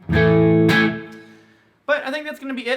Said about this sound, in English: when you get enough distortion going, you can just play anything and it just sounds like shred